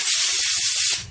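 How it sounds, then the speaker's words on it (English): A loud, continuous spray hiss comes from cleaning parts of a 4L60E automatic transmission pump, including the slide springs. It holds steady for about a second, then tails off abruptly. "we need to spray our pump part out."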